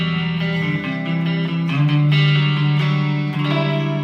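Electric guitar on its neck pickup through heavy distortion, sustained chords shifting every second or so, loud and close, with a thick, ringing tone and no voices.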